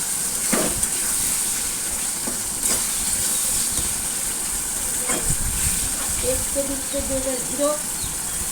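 Spice paste with a little sugar sizzling and hissing in a pan as it is stirred and sautéed, a steady frying crackle with occasional scrape taps from stirring.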